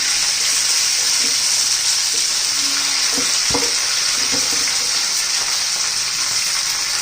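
Okra and green chillies frying in hot oil, a loud unbroken sizzling hiss close up, with a few spoon knocks and scrapes partway through.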